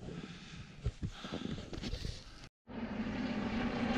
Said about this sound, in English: Police helicopter.